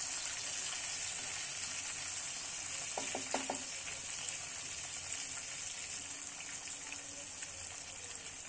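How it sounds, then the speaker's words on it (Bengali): Capsicum stir-frying for chilli paneer gives a constant, fairly even hissing sizzle, broken by a short cluster of light clicks from the stirring partway through. "শিমলা মির্চিটা ফ্রাই করে নেব ভালো করে, একটু বেশি ফ্রাই করব না"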